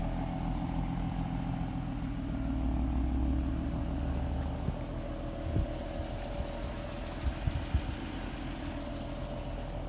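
A Ford Mustang under rebuild idles through its mufflers, a steady, rumbling low drone close by with a few faint knocks near the end. No one talks.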